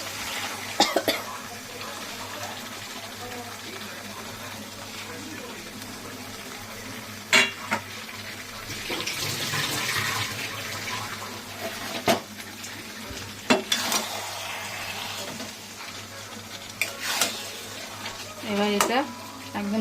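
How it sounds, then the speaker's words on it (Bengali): Spiced chicken sautés in a pan for a masala chicken curry: a low, steady sizzle runs under sharp metal knocks and scrapes from stirring, with occasional clatter. "সেই মশলাটা মাংসের উপরে দেবে দিয়ে তারপরে ভালো করে আবার কষাবো"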